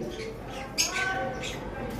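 A pair of red-eyed lovebirds, an albino hen and a lutino cock, gives a couple of short, sharp squawks over steady background noise.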